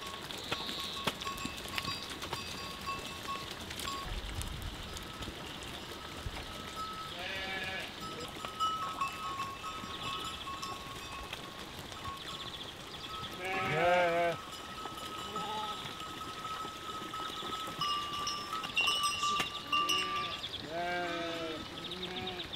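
A flock of sheep bleats over and over, some calls close and some farther off, with hooves clattering and a soft outdoor background throughout.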